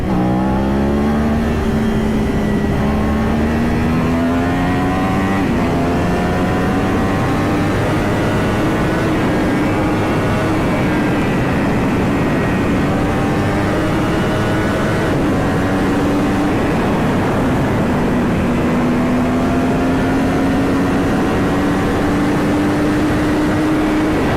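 A superbike engine pulls hard at high speed near 240, a steady, loud roar whose pitch climbs and shifts between gears for the full span, with no talking.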